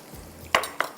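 Onions browning in a pot for beef pulao, with two quick metal utensil scrapes against the pot over a faint, low background.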